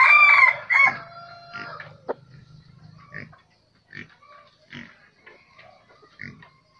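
A tall-legged fighting decoy rooster crows loudly and close in one long harmonic call, then follows with a scattered series of shorter clucks and grunts that fade lower.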